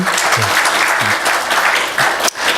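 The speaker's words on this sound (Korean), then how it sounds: "박수로 한번 격려해 주시죠." A church congregation claps together during a Sunday worship service, a short, fairly loud round of applause that briefly dips before carrying on.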